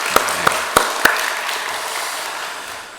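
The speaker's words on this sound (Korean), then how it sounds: "우리 하나님께 영광의 박수 돌리겠습니다." Congregation applauding in a church during a special early-morning prayer service, a dense wash of clapping that starts with a few sharp claps and gradually fades out over three seconds.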